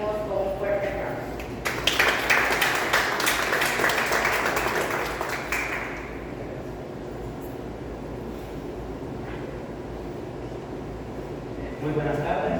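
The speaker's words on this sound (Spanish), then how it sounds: "lo recibimos con un fuerte aplauso" An audience at a university literary talk applauds as a guest speaker comes onstage, a steady wash of clapping lasting several seconds that then fades into quiet room noise.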